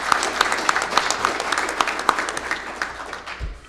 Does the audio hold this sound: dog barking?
no